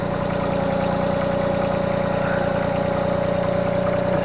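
A tractor engine idles steadily at close range, a constant low mechanical drone with a fixed hum and fine rhythmic pulsing throughout, with no talking.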